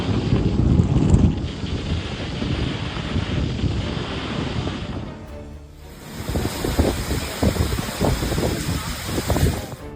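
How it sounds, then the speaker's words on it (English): Huge storm waves pounding a Gold Coast beach, a dense roar of surf and crashing water mixed with heavy wind buffeting the microphone, loud and continuous with surging swells. "Huge waves pounded the Gold Coast beach, creating a majestic and dramatic scene when nature began to rebel."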